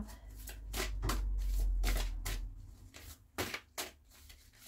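Cards being shuffled for a card reading, several soft riffling bursts close up, with no talking.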